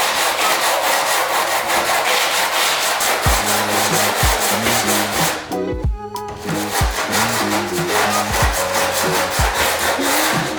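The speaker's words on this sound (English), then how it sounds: "I'm gonna use 80 grit sandpaper and the block here." A carbon fiber front lip on a 10th-gen Civic FK7 is sanded by hand with 80-grit sandpaper on a block, a loud, close, rhythmic scraping of quick back-and-forth strokes with a brief pause midway.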